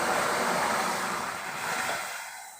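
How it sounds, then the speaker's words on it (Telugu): Water pours into a pot of cooked split moong dal with a steady rushing splash that gradually eases off toward the end. "ఇప్పుడు ఇందులో వాటర్ పోసుకోవాలి"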